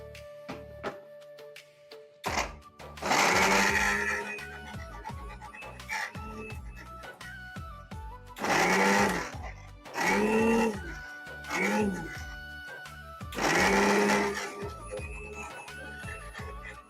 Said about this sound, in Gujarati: જો અને મિક્સર જારમાં સરસ પીસી લઈશું